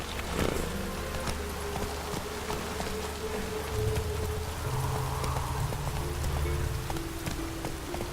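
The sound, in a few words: horse Roach galloping in The Witcher 3 video game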